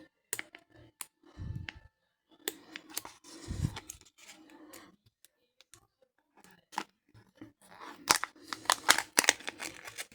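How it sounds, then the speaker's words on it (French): Packaging for Minecraft figurines is torn and opened up close, giving bursts of crinkling, ripping and snipping separated by short quiet gaps. A voice speaks briefly between the handling noises. "Et on va les ouvrir."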